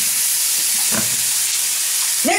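Onions fry in a hot pan with a constant bright sizzle close up, broken by a couple of short knocks and scrapes.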